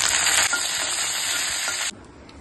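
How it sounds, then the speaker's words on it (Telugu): Hot oil sizzles loudly as a tempering of mustard seeds, urad dal, chana dal, cumin and dried red chilies fries for hotel-style peanut chutney, a steady hiss that cuts off abruptly near the end. "ఆయిల్ వేసి ఆవాలు, మినపప్పు, శనగపప్పు, జీలకర్ర, ఎండుమిర్చి,"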